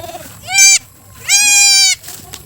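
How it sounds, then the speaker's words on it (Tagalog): Two high, wavering bleats from newborn goat kids, close by, each about half a second long, with a quiet pause between them. "Umiyak yung mga kambing natin bagong inanak"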